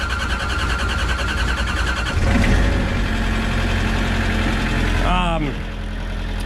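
The engine of a firewood processor catches and runs at a rough, steady idle with a slight surge early on, and a voice speaks over it near the end.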